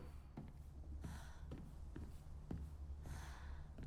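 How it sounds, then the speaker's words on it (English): Footsteps in the Silent Hill f video game, set in a middle school, tread in a steady irregular series of soft thuds over a low droning ambience, fairly close, with no talk. "I can hear footsteps everywhere."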